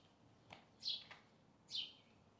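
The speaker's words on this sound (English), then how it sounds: "Don't them birds sound so pretty?" Two bright, short bird chirps ring out about a second apart against quiet background hiss, with no voices.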